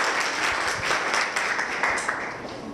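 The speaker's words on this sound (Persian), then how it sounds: "یک تشویقی بکنیم دوستان." An audience bursts into sustained applause, a dense, even wash of many hands clapping that carries on throughout and tapers slightly at the end.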